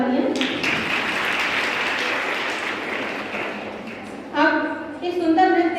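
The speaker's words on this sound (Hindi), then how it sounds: "तो इसके लिए एक बार जोरदार तालियां।" A college audience at K.R.G college applauds loudly after a dance performance, with a broad wash of crowd clapping for about four seconds before it cuts off and a voice begins speaking over the hall.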